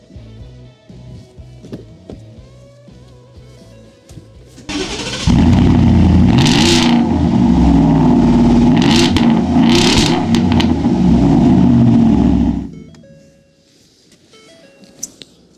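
A Ford F-150 Venom fitted with a Borla S-Type exhaust starts up and revs, a loud, deep, sustained exhaust roar with rising throttle blips that settles back to idle.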